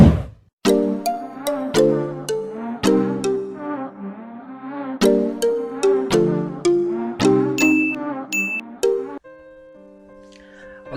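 A bright notification bell chime rings out in a loud melodic run of repeated ding tones, each struck note ringing and fading, before trailing into a softer tail.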